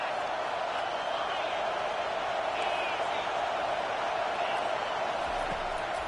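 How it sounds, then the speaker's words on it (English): Stadium crowd at an Alabama versus LSU college football game roaring on a third down, a steady dense wall of cheering that holds loud and unbroken throughout. "Decibels rising as the crowd gets behind this defense on 3rd down."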